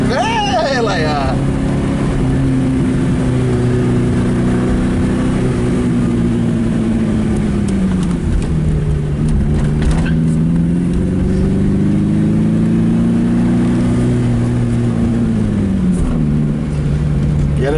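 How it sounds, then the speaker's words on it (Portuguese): A 1980 Chevrolet Chevette hatchback with a carburetor and rear-wheel drive revs hard while being driven, its engine note climbing and falling in sustained surges. Someone talks over the noise throughout. "Tá bem esperto de motor, bem esperto, a carburação dele tá legal"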